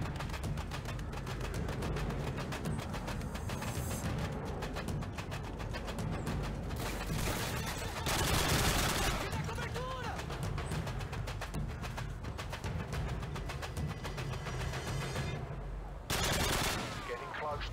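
Gunfire in Call of Duty Modern Warfare 2 on a Special Ops mission: sustained, fairly loud rapid shooting with bursts of automatic fire and a couple of heavier blasts, with voices heard over it.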